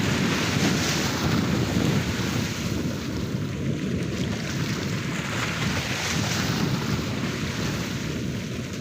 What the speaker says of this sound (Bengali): জাহাজটা বহু দূর পর্যন্ত চলে গেছে।